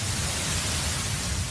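Sonified cosmic microwave background, the audio afterglow of the Big Bang, heard as a steady, dense hiss like broadband static with a faint low rumble, unbroken and even for its whole length.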